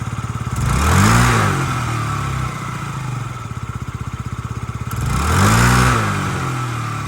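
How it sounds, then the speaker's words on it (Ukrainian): A small Yamaha Jog SA39 scooter engine idles close by with a steady putter, revving up twice in brief throttle bursts before settling back to idle. "Гарно, чистенько працює двигун, зайвих звуків я не чую"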